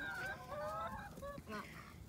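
Chickens cluck and chatter in a cold winter yard, several close birds giving short, rising calls and soft murmurs that overlap throughout the brief moment.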